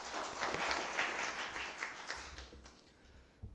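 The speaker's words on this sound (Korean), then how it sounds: "수고해 주신 우리 안승문 선생님께 저 박수 한번 부탁드리겠습니다." An audience at a district council policy forum in Gwangju claps together, a dense smattering of applause that holds steady and then thins out toward the end, heard from within a room.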